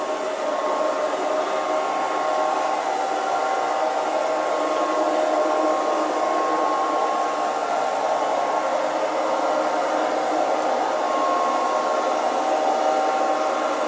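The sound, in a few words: Liectroux B3000 robot vacuum cleaner on hard floor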